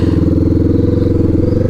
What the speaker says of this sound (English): I forgot about this noisy exhaust until I started riding